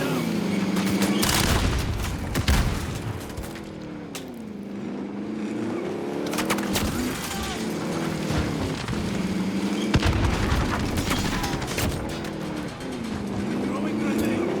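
Gunfire and battle noise from a Modern Warfare match around a grenade throw, a dense continuous barrage with booming bursts and engine-like rumble running throughout, with voices calling out over it.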